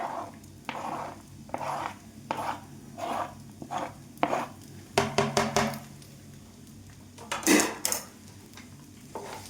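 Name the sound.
stirring and mixing chopped cashews into a pan mixture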